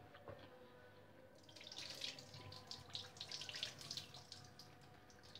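Water runs and splashes as cooked corn is drained in a kitchen, a steady gushing patter that starts softly and swells, with no talking.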